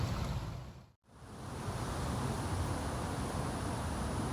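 Steady broadband surf of ocean waves washing near a shore, continuous and fairly loud, with a brief dropout near the start before the roar resumes.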